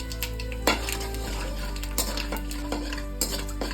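Oil sizzles steadily in a pan as chana dal and cashews fry while a utensil stirs, with several clinks and scrapes against the metal at irregular intervals.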